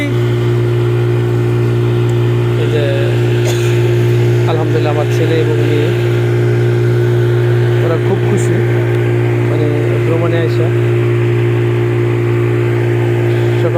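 A speedboat engine runs on a river, a loud steady motor drone with a constant low hum, close by, while people talk intermittently over it.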